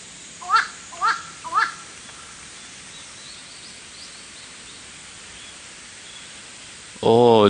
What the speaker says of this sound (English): Oh, that's a bird, but not sure what kind of.